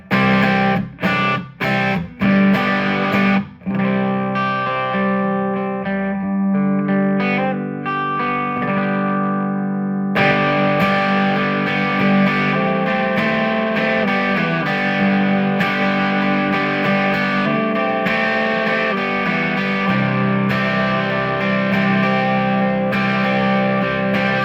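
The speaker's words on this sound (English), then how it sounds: "it can get a little bit of grit if you were to have it like right on that edge of overdrive sound" A 1996 Gibson ES-175 with P-90 pickups plays through an amp set right at the edge of overdrive, with gritty sustained chords and notes, a few sharp strums at the start, then a steady ringing passage with no voices.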